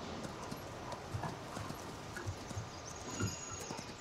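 A horse ridden in the Farming Simulator 19 video game clip-clops along at a steady pace, its hoof beats faint over a soft ambient background.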